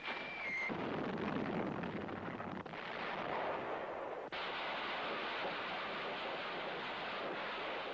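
Heavy artillery and gunfire roar as three Marine divisions advance against a dug-in enemy in a Pacific battle, a dense, continuous rumble of far blasts that runs unbroken throughout with no voices.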